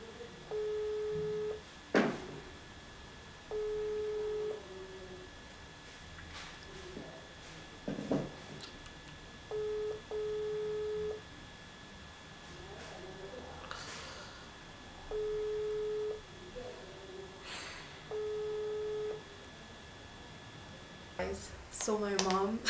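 Outgoing phone call ringback tone, repeating steady beeps in regular bursts about every three seconds, with soft background movement and brief clicks between rings; no words are spoken.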